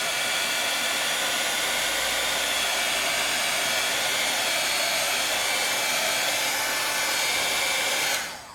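Heat tool blowing over freshly stamped Jacquard ink to dry it: a loud, steady whooshing fan roar held close and unbroken for several seconds before it switches off near the end, with no talk.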